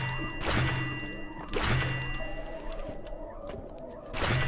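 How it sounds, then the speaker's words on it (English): Explosive thunder spell blasts in the video game Noita: three sharp, booming bursts spaced a second or more apart over a low, steady game backdrop. "Explosion of thunder."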